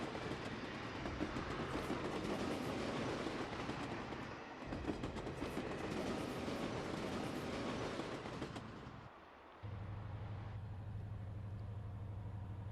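A Fleischmann model train runs on a snow-covered display layout, giving a steady whirring rumble with light track clatter, then dropping briefly before a lower continuous hum resumes.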